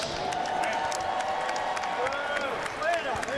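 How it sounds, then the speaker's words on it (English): A crowd at a women's boxing match applauds and cheers for both fighters, with steady clapping and murmuring, and a voice heard over the noise. "Ladies and gentlemen, please put a big round of applause together for both of the fighters."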